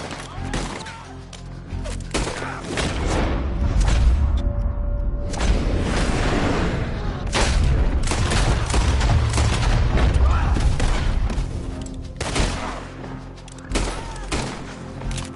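Video game gunfire bursts out as a sustained fusillade, with heavy booms and thuds rolling over each other loudly for most of the stretch, mixed with shouting voices.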